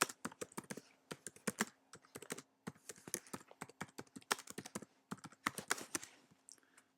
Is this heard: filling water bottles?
no